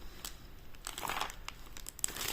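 Small plastic sachets crinkle and rustle as they are handled close up, a dense, continuous scrunching with a few sharper crackles and no talk.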